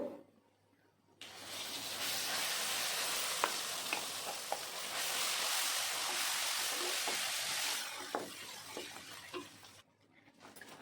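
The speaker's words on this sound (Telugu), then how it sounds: "ఈ పోపులోనే ఈ చట్నీ అట్లీస్ట్ ఒక ఫైవ్ మినిట్స్ అన్న సిమ్లో బాగా వేగాలి" Ground coriander-mint chutney hits a hot spice tempering and erupts into a loud, steady sizzle on a low flame, with scattered sharp spits and pops, fading toward the end.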